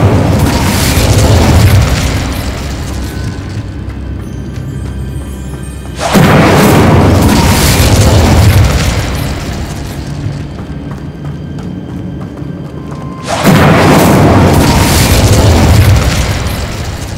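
Incendio fire spell blasts in Hogwarts Legacy erupt three times at roughly six-second intervals, each a loud, booming burst of flame that sustains a roaring crackle before dropping back to a lower rumble.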